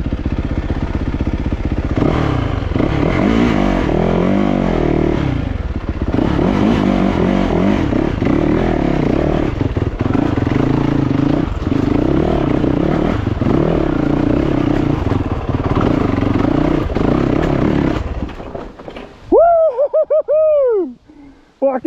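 A Yamaha YZ450FX dirt bike climbs a technical rock section, its engine loud and close, revving in surges with clatter and scraping for most of the stretch before cutting out near the end, followed by a short whistle-like sound.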